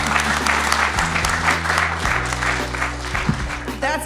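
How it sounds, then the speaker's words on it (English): An audience at a live podcast show in Lansing claps steadily in a dense burst of applause, close and loud, with a voice speaking briefly over it. "A round of applause."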